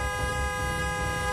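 A car horn blares in one loud, continuous honk with a strong steady tone held across the whole moment.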